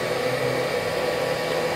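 A hair dryer blows steadily to dry a rescued sparrow, a continuous broadband whoosh with a motor hum underneath, close and even throughout.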